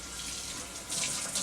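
Kitchen tap water runs steadily over pinto beans in a strainer, a close continuous splashing rush that swells slightly partway through, with no talking.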